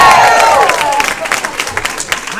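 Women in a comedy club audience at the Lincoln Lodge clapping and cheering, a loud whoop at the start over a wash of applause that fades into scattered claps.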